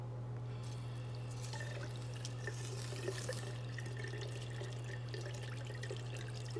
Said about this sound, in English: put it in the sink